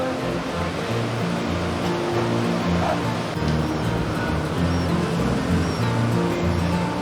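Steady ocean waves wash onto a sandy Australian beach below the dunes, a continuous broad roar of surf that stays close and loud throughout.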